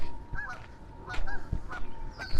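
Several geese honk in scattered, repeated calls at a moderate distance while a dog chases them, with faint background noise between the honks.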